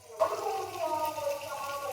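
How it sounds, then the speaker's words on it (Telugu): Water poured from a mixer jar into a pan of frying chickpea masala curry, a short close burst of splashing and bubbling that starts abruptly and carries on to the end. "కొన్ని వాటర్ అయితే వేసుకుందాం ఫ్రెండ్స్."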